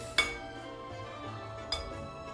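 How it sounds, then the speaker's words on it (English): Two whole eggs dropped one after another into a bowl for a chocolate cake: two quiet, distinct clinks about a second and a half apart in an otherwise still kitchen. "To this, I am going to add 2 whole eggs."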